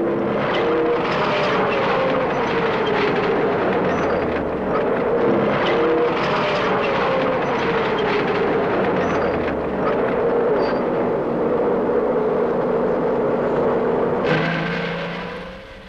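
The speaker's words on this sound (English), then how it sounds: "The tank can then move forward again." A modern battle tank moving forward, a continuous heavy engine roar with rumbling low drone and shifting tonal whine, loud and sustained throughout, no speech.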